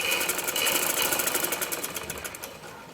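A sewing machine stitching along a raised zipper on a peplum frock, a fast rapid rattle of the needle that runs steadily close up, then slows and fades slightly toward the end, with no voices.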